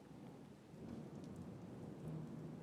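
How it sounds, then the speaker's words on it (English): A passing thunderstorm with steady rain pattering on surfaces and a low rumble of thunder beneath, soft and continuous throughout, no voices. "as the storm passes by."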